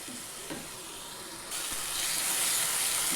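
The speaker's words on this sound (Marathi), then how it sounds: "आता बघा याला चांगलं तेल सुटेपर्यंत भाजून घेतले" Tomato masala frying in oil in a pan until the oil separates, a steady close sizzle and hiss with light stirring, growing louder and fuller partway through.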